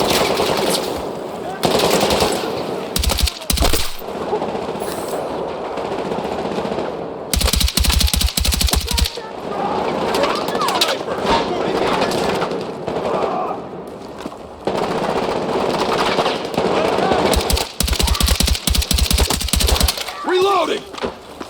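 Automatic machine gun fire in Battlefield 6, during a night raid through a souk, rattles out in several loud, sustained bursts separated by short lulls, with voices calling out amid the shooting.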